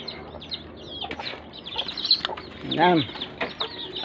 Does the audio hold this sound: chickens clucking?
yes